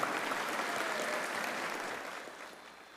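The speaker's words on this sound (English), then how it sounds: "give yourselves a round of applause" A crowd of about two thousand at a conference opening ceremony claps together in a broad, even wash that gradually fades toward the end, heard from a moderate distance.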